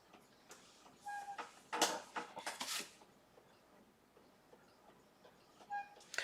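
A Cricut Maker 3 cutting vinyl on cardstock, heard as quiet, scattered clicks, short whirring bursts and faint beeping tones against a near-silent room.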